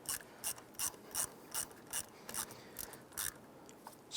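A ratchet tightens a battery terminal bolt on a 1995–2001 Ford Explorer, giving about a dozen crisp, evenly spaced clicks up close, with no speech.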